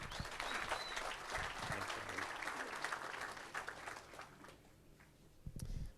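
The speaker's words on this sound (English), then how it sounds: "let's give him a round of applause" Sustained applause from an audience at a cattle fundraising auction, steady clapping filling the room for several seconds before fading slightly, with a louder burst near the end.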